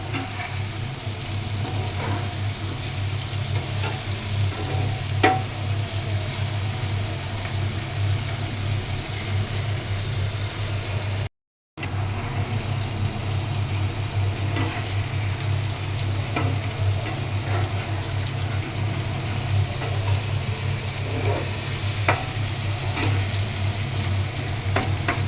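Bitter gourd and onion bhaji frying in a pan, a continuous close sizzle with occasional spatula scrapes and taps from stirring, over a low steady hum from a gas flame, with a brief dropout midway.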